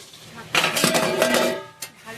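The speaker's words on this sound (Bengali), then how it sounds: "মাংসটিকে এবার আমি ভালো করে মশলার সাথে মাখিয়ে নিচ্ছি।" Mutton being worked into spices in a metal cooking pot, with scraping and clinking of a spoon against the pot in a burst of stirring, then a single sharper knock near the end.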